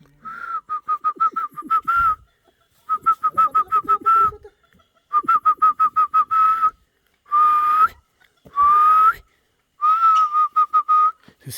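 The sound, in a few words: Amazon bird whistling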